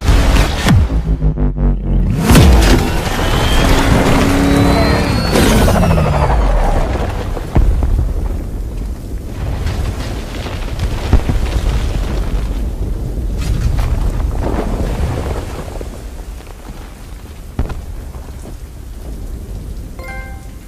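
A deep, rolling explosion in a Batman: Arkham Knight cutscene opens with a heavy blast, then fades into long rumbling and crackling debris that slowly dies away.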